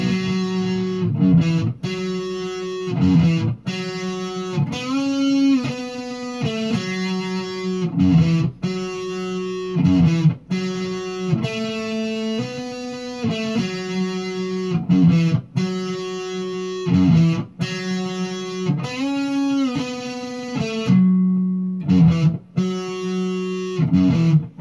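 Distorted electric guitar plays the verse riff of a song, with sustained chords and single-note lines repeating in a steady slow rhythm, loud and close, with no talking.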